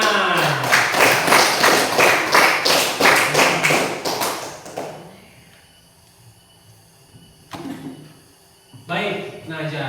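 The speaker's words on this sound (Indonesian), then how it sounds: "Baik, tepuk tangan." A classroom group claps hands in a quick, steady rhythm for about five seconds, then the clapping stops, leaving a quiet room with a few brief voices and bumps.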